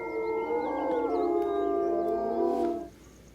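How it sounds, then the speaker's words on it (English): Wolves howl in a long, loud, steady chorus of overlapping sustained tones with shifting pitch, which fades out near the end. "Their howls can be heard more than 4 miles away, and wolves can recognize the individual calls of their pack."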